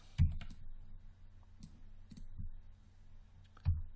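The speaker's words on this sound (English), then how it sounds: "Right click object mode." A computer mouse is right-clicked during 3D modeling work in Maya 2016, giving a few sharp, close clicks spaced out over a quiet background.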